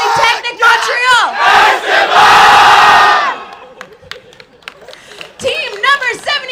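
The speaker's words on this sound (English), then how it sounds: "Can we do that one more time with the whole group because it's the best cheer?" A whole group of students at a solar car racing awards ceremony lets out a loud, sustained cheer and shout for about three seconds, which then drops into crowd chatter before another burst of whoops.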